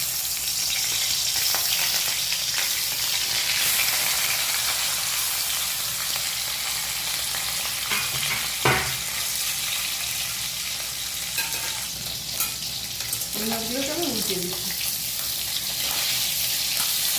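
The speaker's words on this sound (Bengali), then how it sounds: "কড়াইতে দিয়ে দিয়েছি সরষের তেল তেলটা গরম হয়ে গেছে কই একটু ভেজে নেব" Koi fish frying in hot mustard oil in a kadai, giving a continuous close sizzle and crackle that stays even throughout, with a brief clatter midway and no talking.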